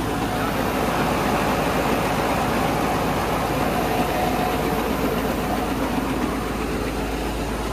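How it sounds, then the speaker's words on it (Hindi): A tractor-driven rice threshing machine running in a village, a loud continuous mechanical rattle and engine drone that holds steady throughout with no pauses. "ये इससे ट्रैक्टर से चलता है ये।"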